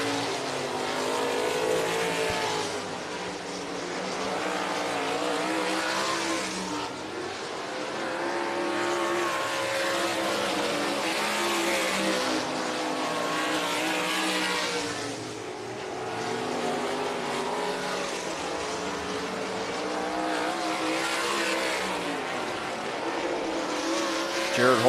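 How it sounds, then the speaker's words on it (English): Stock cars race around a dirt track at a stock car nationals event, their engines roaring in a continuous, surging drone that swells and fades as the pack circles past, with faint talk underneath. "drivers able to get a feel for their race car and play around in just about every groove out there"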